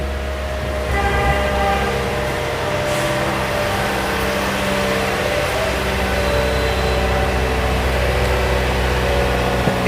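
A Toyota Corolla X car engine idles steadily up close, a low droning hum with a constant rumble and faint mechanical whine, unbroken throughout.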